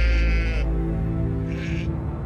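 Sheep bleating on Icelandic mountain slopes during the winter round-up, two loud nasal bleats close by separated by a short pause, over a low steady rumble of wind or engine.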